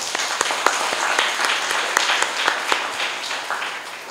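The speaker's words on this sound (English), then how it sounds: "Please join me in applauding them on their achievement today." An audience applauds new citizens at a naturalisation ceremony, a moderate round of clapping with distinct individual claps standing out, steady throughout and easing slightly at the close.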